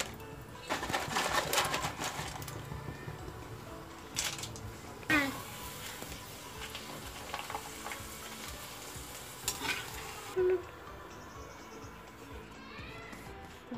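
Sliced potato chips fry in hot oil, a steady sizzle with stirring scrapes and a few louder bursts, close and alone without talk.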